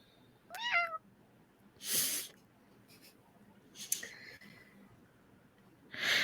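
A cat gives a short, faint meow early on, followed by a few soft sniffs and rustling noises in a quiet room.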